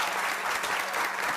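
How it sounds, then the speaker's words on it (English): Town hall meeting audience breaking into steady, dense applause, many hands clapping together at an even level throughout, with no talk over it. "if you can end a meeting on a timely fashion, that's worth an applause."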